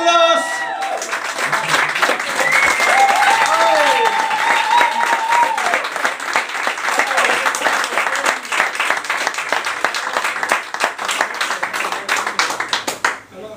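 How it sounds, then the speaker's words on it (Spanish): A concert audience gives loud applause and cheering as a band musician is introduced. Dense clapping rises and continues with whoops and shouts, and at the start a brief announcer voice is heard over the start of the clapping. "A mi derecha, un fuerte aplauso"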